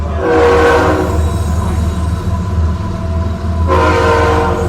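A train rumbles past on nearby tracks with a loud, steady low roar and blasts its horn twice, at the start and near the end, with no voices.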